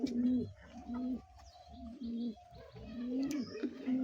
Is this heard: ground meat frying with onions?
no